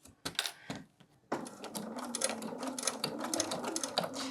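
A sewing machine fitted with a flange foot stitches fabric for a holiday placemat, first a few short separate bursts, then a brief pause, then a sustained run of rapid mechanical clatter close by, with no talking.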